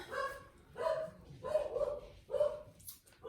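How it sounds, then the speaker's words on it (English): Dogs bark repeatedly in a steady rhythm, about five sharp barks spaced roughly evenly, moderately close with a faint low rumble underneath. "My dogs are going haywire for some reason."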